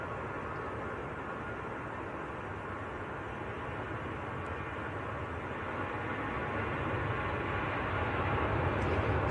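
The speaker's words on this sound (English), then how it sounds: "This is EasyJet to Milan. This is the Austrian registered one." Austrian-registered EasyJet Airbus A320 jet airliner bound for Milan at Manchester Airport, a steady broadband engine roar from a distance that slowly swells louder toward the end.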